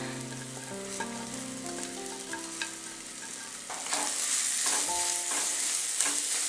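Sliced onion sautéing in hot oil in a pan for a Kerala-style egg roast, a steady close sizzle with soft stirring scrapes, growing louder and brighter toward the end while a faint melody plays underneath.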